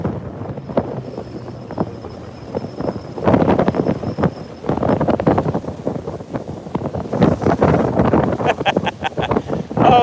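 Strong wind buffeting a bass fishing boat out on the water, loud continuous roaring gusts against the microphone with some water noise.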